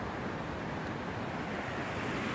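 A stream swollen with spring runoff on a day hike, heard as a continuous dense rush of water that stays steady and loud throughout, with no speech.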